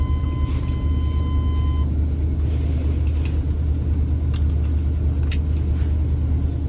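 A 1984 Chevrolet Suburban engine with a faulty choke struggles to start, then settles into a steady low rumbling idle up close, with a few sharp clicks and knocks over it and no talk.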